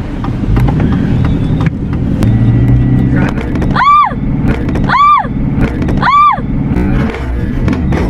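A truck driven from inside the cab gives a loud, steady engine and road rumble, with three short swooping tones rising over it in an even rhythm.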